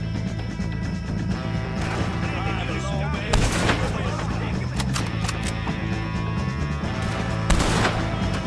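Gunfire in the Red Dead Redemption 2 video game, sharp shots cracking over a steady game soundscape with music, while voices call out over the action.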